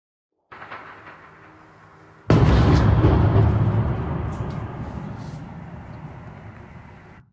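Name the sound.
explosions in occupied Crimea, news footage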